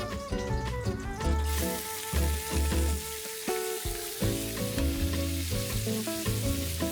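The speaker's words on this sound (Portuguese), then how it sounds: "vou começar selando as partes do nosso frango" A whole chicken of about 3 kg, cut into parts, searing in hot dendê palm oil at the bottom of a pot, with loud continuous sizzling and crackling over a shifting musical backdrop.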